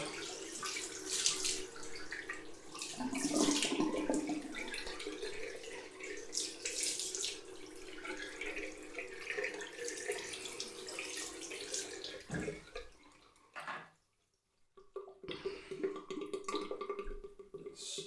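Cold water runs from a tap into a sink during a wet shave, a steady rushing splash that stops briefly and then starts again. The sound is fairly quiet and close, with no talking.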